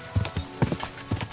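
Rhythmic horse hoofbeats clip-clop at a trotting pace in the video game Kingdom Come: Deliverance II, several quick hollow strikes in clusters, close and clear.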